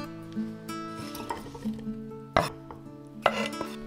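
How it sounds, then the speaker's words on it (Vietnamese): A knife cuts a 130 g tomato on a board, two distinct sharp chops plus softer knocks, heard over steady tonal background music. "Một trái cà chua 130g mình sẽ cắt nhỏ để chút nữa nấu ra nước ngọt"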